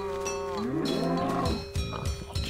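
Several cows moo in the game Minecraft, with overlapping, drawn-out lowing calls close by and a few shorter grunts at the end, heard alone without talk.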